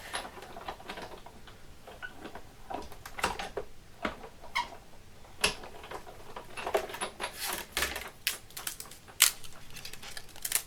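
Brown paper label being cut for a handmade autumn card, heard as faint, irregular ticks and small snips with light rustling, close and quiet.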